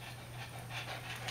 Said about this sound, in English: If you guys are wondering what that noise is, it's my dog Tonka